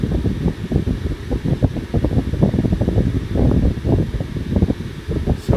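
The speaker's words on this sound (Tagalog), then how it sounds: "Naka-full yung blower nito" Car air-conditioner blower fan, on the passenger side of a system low on refrigerant, runs at full speed with a loud, steady rushing whoosh broken by rapid fluttering pulses, close up and without talking.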